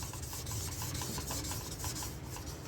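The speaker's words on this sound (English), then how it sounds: "Not the stones clanging, but the scratchiness. Now we're hitting that steel. Soft steel makes this sound." Soft steel of a Japanese deba knife scraping across a sharpening stone, a continuous gritty, raspy scratching with rhythmic back-and-forth strokes, close and steady.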